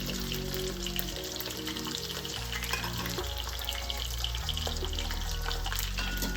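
Salmon fillets sizzle in a pan for a honey garlic glazed dish, a steady crackling fry over moderate heat, with low background hum and occasional light clinks, no talking.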